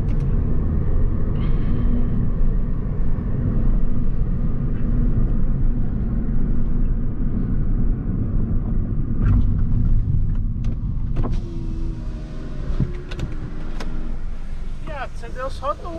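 A Hyundai i30 or Opel Astra 2.0 launches at a race start, a loud close engine roar and rumble that holds steady, then eases as sharp clicks and voices come through near the end.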